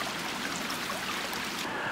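Water flows steadily over a small water wheel whose spokes carry added pieces of PET bottle tied on with cord. It makes a constant, dense trickling rush with no pauses and no voices.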